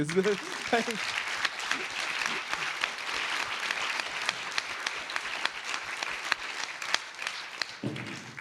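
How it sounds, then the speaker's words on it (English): Sustained applause from a conference audience at a deep-ocean biodiversity panel, dense and steady clapping throughout, with a brief voice at the start and another as it ends. "could we please have a round of applause for our panelists?"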